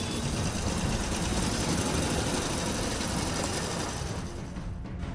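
Motorbike engine running on a road trip through Jabalpur, a continuous close rumbling drone with broadband noise that eases slightly near the end.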